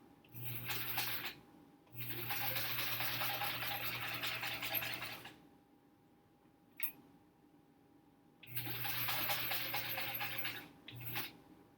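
A sewing machine stitches nested seams on a quilt block, running in two long steady bursts of motor hum and needle clatter separated by pauses, with a brief short run near the end.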